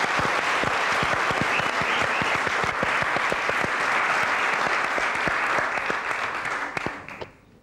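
A 1998 television talk show studio audience claps in a dense, sustained round of applause with sharp individual claps audible, then it fades out near the end.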